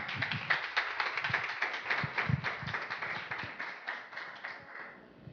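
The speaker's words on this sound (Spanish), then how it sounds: "la recibimos con un fuerte aplauso" Small audience clapping to welcome a speaker to a talk on animal behavior, a modest, fairly faint patter of hands with distinct individual claps, thinning and fading out toward the end.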